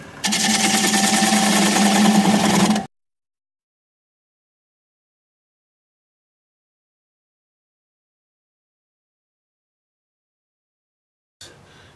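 A wood lathe at about 600 rpm turns a live-edge alder bowl while a gouge cuts its tenon. A close, buzzing mechanical whir lasts under three seconds, then silence follows until a short burst at the end.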